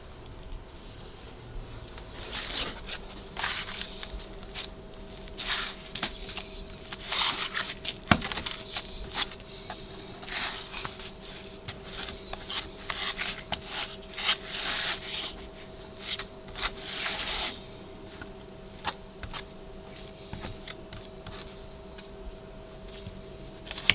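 A drywall knife spreads joint compound over a wall patch, giving steady scraping and rubbing strokes in an irregular rhythm at close range against a constant low electrical hum, with no voices.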